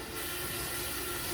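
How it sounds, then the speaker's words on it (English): Running tap water pours steadily as a cucumber is rinsed in a kitchen, a close, continuous hiss and splash with no voices. "the last thing we have to do is rinse off our cucumber and cut it up"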